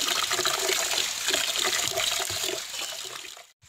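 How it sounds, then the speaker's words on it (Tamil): Four kilos of rice are washed in water for chicken biryani, sloshing and splashing continuously up close, fairly loud and busy, then cutting off abruptly near the end. "நாலு கிலோ அரிசி கொட்டி கழுவிக்கலாம்"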